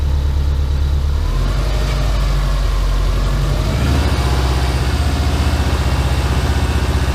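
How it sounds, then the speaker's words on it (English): A Subaru Impreza engine, newly rebuilt and running for the first time in two years, idling loudly and steadily nearby, its low throbbing rumble dropping slightly in pitch partway through and continuing evenly. "It's running nice, idle just dropped."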